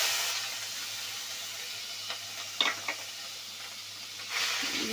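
Onion paste frying in oil with bay leaf, cinnamon and white cardamom for a koi fish curry: a soft, steady sizzle with faint spoon-stirring scrapes, quiet and close.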